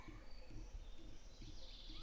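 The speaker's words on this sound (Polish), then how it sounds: "Jest na pewno muchówka białoszyja" A collared flycatcher sings faintly in the distance, thin high phrases repeating over a low steady rumble of background noise.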